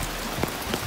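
Rain pouring steadily near a bridge on Penang Hill in Malaysia, a dense close hiss of drops striking surfaces with no voices.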